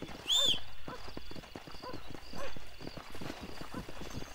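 Horse hooves clip-clopping at a steady walking rhythm in the video game Red Dead Redemption, opening with a short high whinny, heard close and fairly loud against a soft outdoor background.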